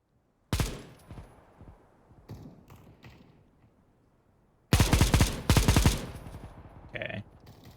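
Gunfire in Counter-Strike, with a sharp shot and a few scattered pops followed by a loud, rapid automatic burst and a second burst, close and punchy with a brief tail, no talking.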